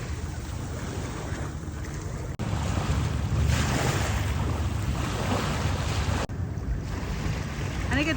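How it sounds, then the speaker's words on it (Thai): A ferry crossing open sea near Seattle, Washington, with a steady broad rush of water, wind buffeting the microphone and a low engine hum running throughout, close and loud, with no talking. "อันนี้ก็จะเป็นเรือเฟอร์รี่ลำที่"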